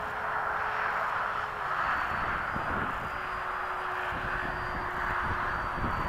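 A Freewing 90mm F-15 Hot Rod RC jet making a flying pass at a flying field in windy conditions: a steady, fairly loud ducted-fan whine and rushing roar that holds throughout, with a tone that shifts slightly as it passes.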